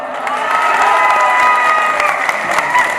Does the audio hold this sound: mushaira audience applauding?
yes